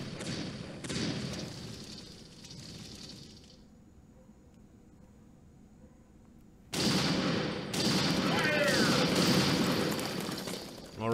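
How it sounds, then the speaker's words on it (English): Coastal artillery fire in the video game American Civil War II: heavy booming blasts with rumbling, crackling texture, a quieter lull in the middle, then loud sustained barrages toward the end. "Got some coastal fire there."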